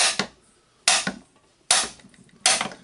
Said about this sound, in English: Now we can hammer the armature.